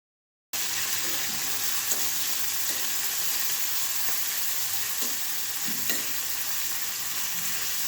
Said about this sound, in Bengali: এবার গ্যাসের ফ্লেম মিডিয়ামে রেখে এগুলো ভেজে নিচ্ছি।